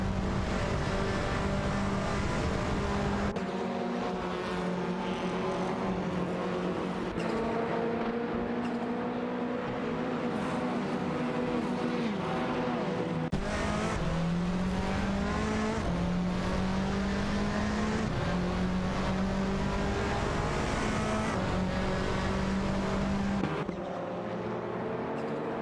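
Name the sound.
Honda Civic and Audi RS3 TCR race cars in a racing video game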